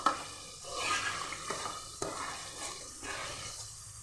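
Coarse ground masala for aloo degi korma stirred in a pot, a spoon scraping in uneven strokes over a steady close sizzle of frying, with no voices.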